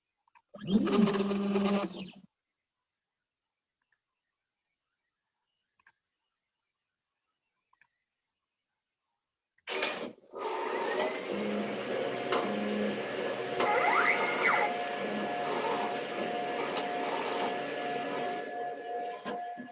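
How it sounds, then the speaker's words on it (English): Eddie edible ink printer lifting cookies off a tray one at a time and printing onto them, a brief mechanical burst, then silence, then a steady close whirring and clicking run that continues to the end. "the mechanism lifts the cookie up off of the tray one at a time"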